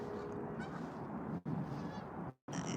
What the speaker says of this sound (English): look at that, the geese. The geese are heading east.